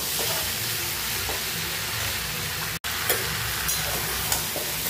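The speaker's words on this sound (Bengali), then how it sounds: "খুব ভালোভাবে মশলার সাথে এটাকে কষে নিচ্ছি।" Spiced potato and cauliflower with a little sugar sautéing in a pan, a steady close sizzle and fry with soft scraping stirs, one brief cut of silence midway.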